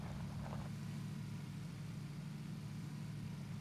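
Car engine in the video game PUBG, driven without turbo: a steady low engine hum runs continuously, moderately loud and alone.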